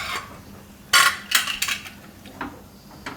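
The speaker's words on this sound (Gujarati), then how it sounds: "અને કુકરનું ઢાંકણું બંધ કરી દઉં." Metal pressure cooker lid handled and clanked shut on a stovetop while cooking chana dal with soya chunks: a few sharp clinks and scrapes spread over a few seconds, close and fairly crisp.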